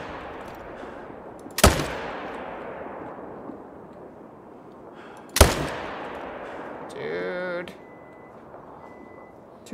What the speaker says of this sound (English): Do you want me to sneak up and try and buckshot these whitetail just to play with the 10-gauge?